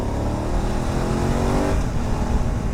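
A BMW F900GSA motorcycle pulls out to overtake on the left in traffic, its engine droning loud and close under wind rush, with the tone easing slightly partway through.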